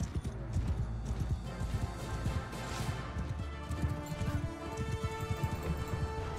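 Horse galloping into a battle charge in Mount & Blade 2: Bannerlord, rapid rhythmic hoofbeat clip-clops close by under a busy battle din, with a brief whinny among the steady pounding.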